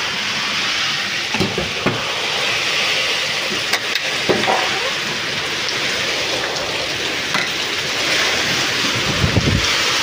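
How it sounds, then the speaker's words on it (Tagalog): Strong typhoon wind from Typhoon Tino roars steadily in Southern Leyte at night, a loud continuous rush with rain-like hiss and a few buffeting gusts, no voices. "Napakalakas na ng hatak ng hangin."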